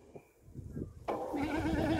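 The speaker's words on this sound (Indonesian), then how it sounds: "Oy, kambing, kambing." A goat gives a single drawn-out bleat, close and clear, following a moment of faint rustling and quiet background sound.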